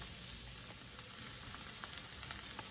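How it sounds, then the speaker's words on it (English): A soft, steady sizzle of paneer frying in hot oil, with faint crackles and pops scattered through it. "we'll keep on frying these paneer till they become nice and crispy"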